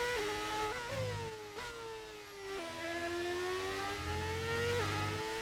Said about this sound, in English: Engine sound mod? Yes, sir. We're using the V8s.